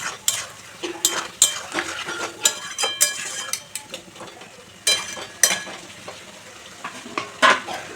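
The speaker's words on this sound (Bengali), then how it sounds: "মশলার সঙ্গে চিকেনটাকে ভালো করে কষিয়ে নেব।" Chicken and spices are stirred in a pan with a spoon, scraping and clinking irregularly against the metal over a soft sizzle, close and clear with no talk.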